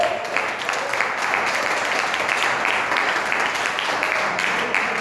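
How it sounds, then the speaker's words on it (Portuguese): A church congregation applauds in steady, dense clapping that holds at an even level throughout, with no voices standing out. "Vamos aplaudir a Deus."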